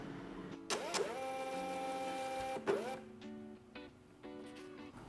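An EPPOS EP9220UB label printer runs a test page, giving two close, loud bursts of whirring, tonal motor and feed noise with short pauses and quieter mechanical clicks between them.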